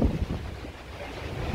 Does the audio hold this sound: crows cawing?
no